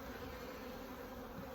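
Honey bees hum in a steady, close, continuous drone during a spring hive inspection, with no voices over it.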